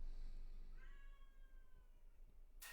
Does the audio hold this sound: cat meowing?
yes